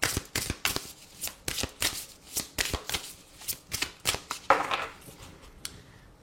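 Oracle cards are shuffled by hand in a quiet room, a series of crisp riffling bursts repeating in a steady rhythm, close and clear with no talking.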